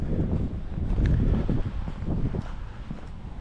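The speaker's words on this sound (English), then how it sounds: "It's windy" Gusty wind buffets and rumbles across the microphone outdoors, rising and falling in strength.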